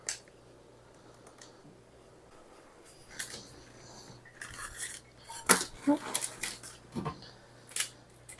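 Peanut butter and jam cookies lifted off a metal baking pan, with a run of light metallic scrapes and clinks that grows busier and louder toward the end, over faint background hum.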